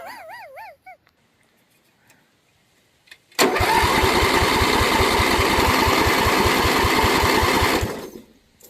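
A 12 HP Briggs flathead engine with an oil-leak fault cranks steadily under the starter without firing, a loud rhythmic churning lasting several seconds before stopping, preceded by faint whining and small knocks.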